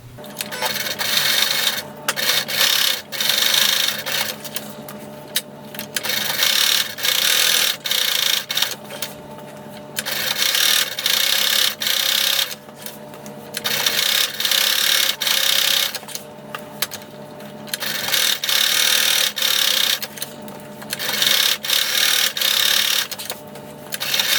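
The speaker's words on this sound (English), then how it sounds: "Now you're going to sew each of these sides with a 1/4 inch seam allowance and backstitch when you start and when you stop." A sewing machine stitching the sides of a fabric box, running in a series of loud whirring bursts separated by short pauses.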